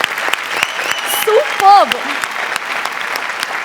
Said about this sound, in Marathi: जोरदार टाळ्या झाल्याच पाहिजेत